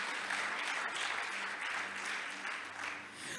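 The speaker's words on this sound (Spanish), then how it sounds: "Dele una ofrenda de palmas a la palabra" A church congregation claps together in a dense, steady burst of applause that swells and eases slightly, with a low musical hum underneath.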